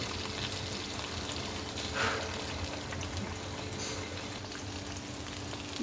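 Boal fish frying in hot oil gives a steady, even sizzle and bubbling hiss that holds at a fairly low level for the whole stretch, with no voices over it.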